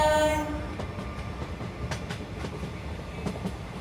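A short horn note opens, then a running train's wheels rumble and clatter rhythmically, moderately loud and close, past a station.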